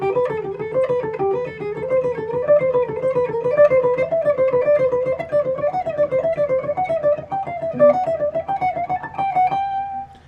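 A musical scale sequence played as a steady run of single notes, each group climbing three steps and then dropping back one, moving gradually upward and then easing back, alone with no talking.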